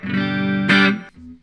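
A Les Paul electric guitar played through an EQ pedal sounds a sustained, bright chord that swells brighter partway through, then cuts off and leaves a quieter low note ringing alone.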